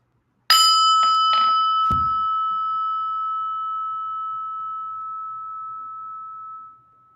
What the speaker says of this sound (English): and the prayer bell